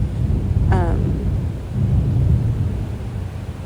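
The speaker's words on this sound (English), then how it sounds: "do you hear that thunder?" Low thunder rumbling from a storm, a broad, moderately loud roll that swells, eases and then builds again, with a brief voice heard over it early on.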